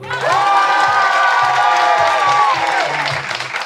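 A theatre audience at an improv show bursts into loud applause mixed with cheering and whoops, a dense roar of clapping and shouting voices that holds steady, then eases slightly toward the end.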